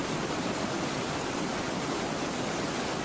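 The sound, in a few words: waterfall in Lahemaa National Park, Estonia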